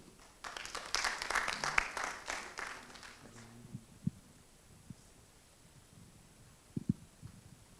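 Applause from an audience rises, sustains for a few seconds, then fades out, leaving scattered soft thumps in a quiet hall.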